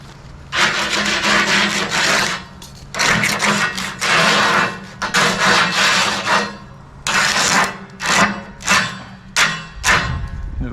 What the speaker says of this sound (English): Clean up with a grinder